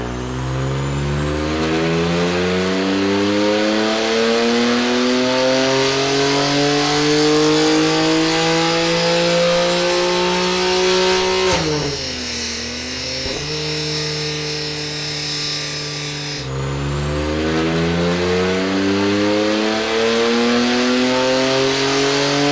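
A BMW M2 Competition fitted with JBOM 100-cell high flow downpipes revs hard on a dyno, its engine note climbing steadily in long loud pulls, briefly dropping and shifting before rising again, with no talking.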